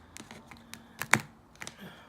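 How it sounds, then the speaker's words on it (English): A deck of tarot cards is cut by hand, giving a few soft, close taps and papery snaps in quick irregular succession, with no talking. "I'm just going to cut them."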